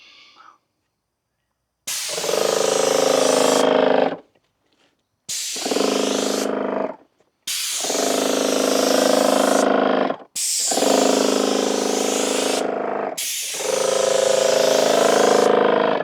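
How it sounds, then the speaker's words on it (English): A paint sprayer hisses onto wooden shed battens in five loud, close bursts of two to three seconds each, separated by short silent pauses. "Notice how I sprayed both sides of the batten."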